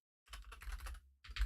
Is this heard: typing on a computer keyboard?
yes